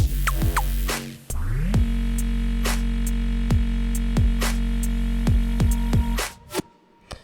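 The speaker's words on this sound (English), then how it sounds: "So the next part is the sustained bass sound right here." A deep sustained synth bass note, a sub playing F in the Vital synth, drones under repeated sharp downward-sliding pitch sweeps and clicks, cutting off near the end.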